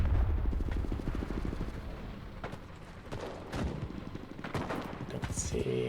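Tank cannon fire and rifle and machine-gun shots in the Enlisted World War II shooter, a loud busy battle of rapid bursts and heavier booms, with a voice talking over it.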